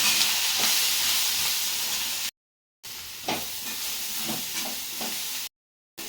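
Masala with chili powder frying and stirred in a pan for a Tamil curry: a loud, steady sizzling hiss broken by brief gaps, with occasional scraping strokes of the stirring spoon.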